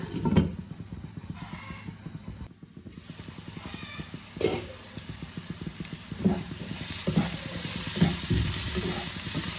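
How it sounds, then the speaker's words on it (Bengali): Vegetables and spices frying in a covered pan while a spinach curry (palong saag) is cooked, giving a steady low sizzle with soft rhythmic stirring or scraping knocks and brief louder bumps throughout. "একসাথে আমি এখন ভেজে নিচ্ছি"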